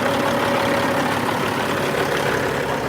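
A truck engine idles steadily after its air pressure has built up and the fan hub has disengaged, a continuous close rumble with even low-end chugging and no talking.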